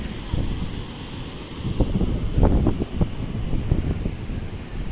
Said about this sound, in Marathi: समुद्र खवळलेला आहे बोलतात ना तर त्यामुळे असं तुम्हाला लाटा दिसतात